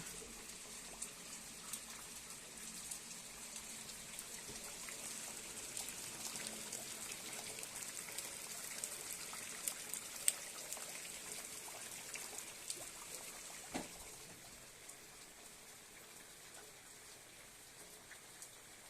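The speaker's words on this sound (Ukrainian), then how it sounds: "Слухайте, люди, симфонію дощу." Steady, soft rainfall patters continuously with scattered drips, faint and even throughout, with no voices.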